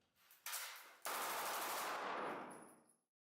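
A single loud shot from an HK SP5K 9mm pistol at an indoor range cracks sharply, then a long echoing tail rings out and fades away over about two seconds.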